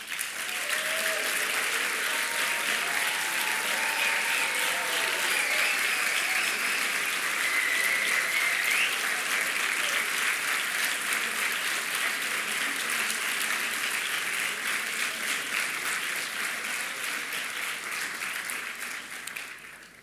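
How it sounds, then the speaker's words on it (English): Sustained applause from an audience at a graduation ceremony for a business school master's class, a dense steady wash of clapping lasting about twenty seconds before tapering at the end, with faint voices beneath. "so that we can give you a round of applause"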